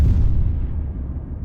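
An artillery round exploding on impact in ArmA 3, a single heavy deep boom that rumbles and fades over a second and a half, with no talk.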